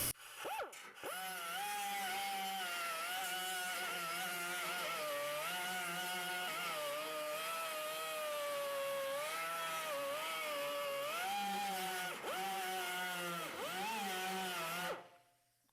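A small rotary grinding wheel works a 1933 Ford fender with a steady high-pitched whine that wavers in pitch as it bears on the metal, running loud and continuous for about fourteen seconds before stopping.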